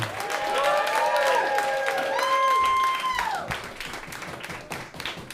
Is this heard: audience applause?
yes